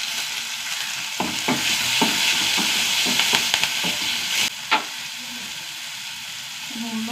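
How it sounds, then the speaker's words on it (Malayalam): Fresh curry leaves frying in hot oil make a continuous loud crackling sizzle, broken by several sharp stirring clicks and scrapes near the mic, with no one speaking. "ഫ്രഷ് കറിവേപ്പില,"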